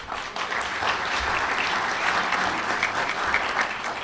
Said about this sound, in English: Please give Jim a round of applause.